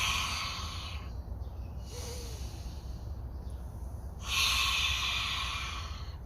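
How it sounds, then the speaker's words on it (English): Forceful lion's breath exhales during a guided breathing exercise, rushing breaths out through an open mouth, with a hissing breath near the start and a louder, longer exhale later over steady background hiss. "open your mouth, stick your tongue out, cross your eyes, and roar the breath out"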